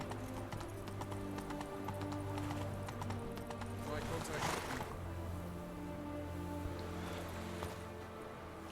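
Horse hooves clip-clopping at a steady pace in the video game Witcher 3 as the rider dismounts, set against a sustained musical drone and faint background sounds.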